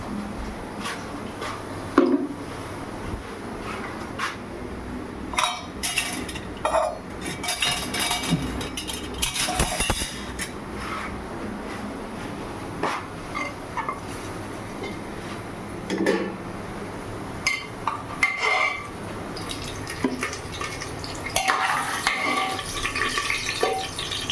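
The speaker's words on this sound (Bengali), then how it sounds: "ছোটো একটা পাত্রের মধ্যে আলুগুলো উঠিয়ে নিই।" Fried potatoes scooped out of the pan and dropped into a small bowl, with repeated clinks and scrapes of a utensil against metal and crockery, close and fairly busy, no talking.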